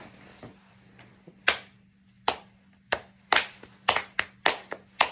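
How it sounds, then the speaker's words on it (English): Rhythmic hand claps in a classroom chant activity, about ten sharp claps that start sparse and quicken into a steady beat over a low background hum, with no talking. "you can do the knee pats or you can do the hand claps"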